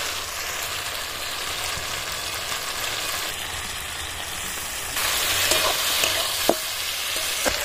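Eggplant pieces hit a pan of half-cooked spice paste for a Bengali small-fish curry with potato and eggplant, giving a steady loud sizzle that swells and brightens midway, with scattered spatters and pops.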